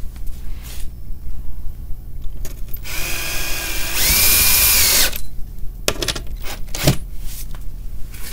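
A power screwdriver drives a screw into drywall on an attic chimney enclosure. A loud, close whine lasts about two seconds, framed by scattered handling knocks and clicks.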